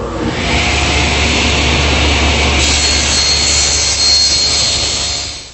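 Table saw ripping wood pieces along the fence, a loud, steady whining roar of the blade cutting continuously for several seconds with a low motor hum underneath, easing off at the end.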